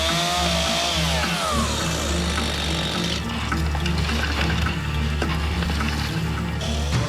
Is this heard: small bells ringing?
no